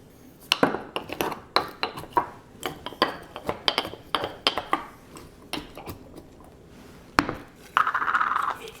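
Garlic slices drop into glass jars of Italian pickled vegetables, making a series of sharp, close clinks and taps at an irregular, fairly quick pace, with a brief louder rustle near the end.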